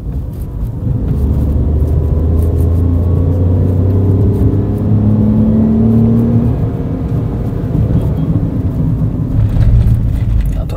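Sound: Tata Tiago CNG AMT car accelerating hard

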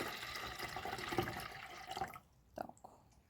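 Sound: pouring warm water

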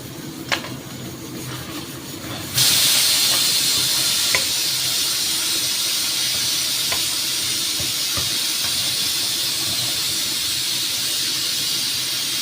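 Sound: mutton being stirred and fried in a pan

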